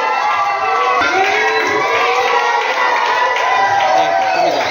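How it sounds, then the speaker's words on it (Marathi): Students at a school literary gathering clap and cheer continuously during a lamp lighting ceremony, a dense, loud, steady wash of applause mixed with crowd voices. "गुरु आणि शिष्य दोघेही दीप प्रज्वलन करताना विद्यार्थ्यांनी टाळ्या वाजवायच्या."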